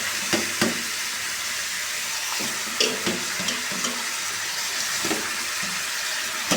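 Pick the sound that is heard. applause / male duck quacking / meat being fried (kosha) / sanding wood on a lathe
meat being fried (kosha)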